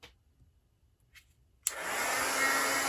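After a quiet stretch, a heat embossing tool abruptly switches on and blows hot air in a steady, loud whooshing hum that continues to the end.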